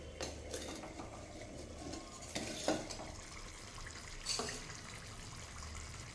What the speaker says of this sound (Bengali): দেখুন কেমন ফুটছে